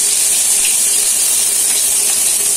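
Chopped onions frying in hot oil left over from frying fish, a steady loud hiss and sizzle with no talk.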